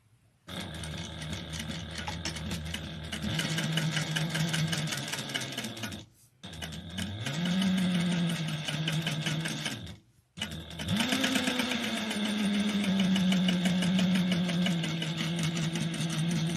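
A sewing machine stitching a clutch wallet, running in three long bursts of rapid, steady needle clatter and motor hum, separated by brief pauses, close and clear.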